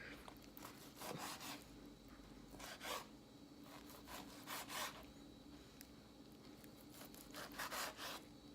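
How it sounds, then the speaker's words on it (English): A knife saws back and forth through a cooked, rested ribeye steak in repeated rasping strokes, each stroke a short rough scrape in uneven clusters, fairly close and quiet over a low background hum. "We're gonna cut into it, see what it looks like."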